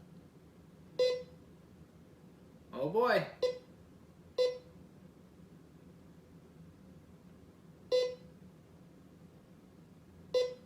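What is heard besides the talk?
metal detector beeping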